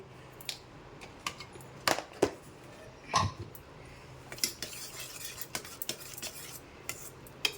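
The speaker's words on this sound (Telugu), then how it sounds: "ఈ పప్పు గుత్తితో మనము పప్పును మంచిగా మెత్తగా రుద్దుకుందాం" A wooden dal masher (pappu gutti) works cooked, salted dal in a pot, giving sparse, irregular knocks and soft scrapes close by, with quiet gaps between strokes and no talking.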